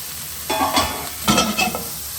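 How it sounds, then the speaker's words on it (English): Vegetables and cauliflower fry in a pan for khatti dhal, a steady sizzle with two louder bursts of stirring and scraping, close and without talk. "I'm just going to let those fry and develop a little bit more flavour"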